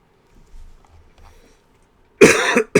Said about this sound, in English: I'm trying my best not to cough, but it's not easy.